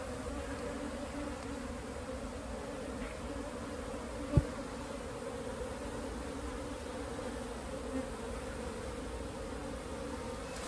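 A honey bee swarm is brushed off a wall into a box, giving a continuous low buzzing hum from many bees that is steady throughout, with one sharp brief knock partway through and no talking.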